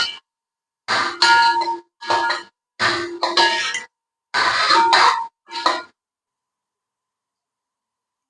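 Spices and guava pieces for a quick guava pickle being stirred in a pan, heard as six separate bursts of clanging metal scraping and ringing, close and fairly loud, with silence after.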